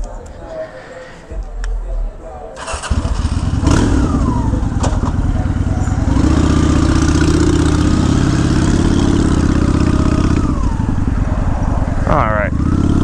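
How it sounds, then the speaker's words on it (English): Honda Shadow ACE motorcycle with a sticky clutch cable, its engine starting rough, then settling into a loud, close, sustained rumble with rising revs and some throttle blips, heard without talk. "I rev my motorcycle engine everywhere"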